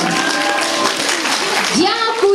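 An audience applauds the lead actresses at a stage event, steady clapping that runs throughout while a presenter speaks over it.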